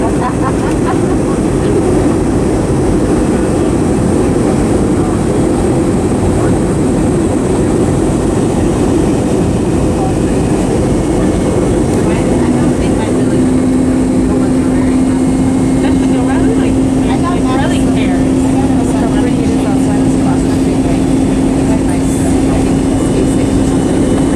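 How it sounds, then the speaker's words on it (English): Cabin of a Frontier Airlines Airbus A320 on landing approach into Denver: a loud, steady engine and air roar continues throughout, with a faint tone entering midway. "Flight attendants prepare for landing. Alright, we're almost landed."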